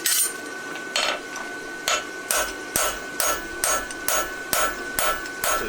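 A farrier hammers a horseshoe on an anvil, fullering it out while practising for a competition; about ten sharp metallic blows land in a steady, evenly spaced rhythm, close and loud, with no talk.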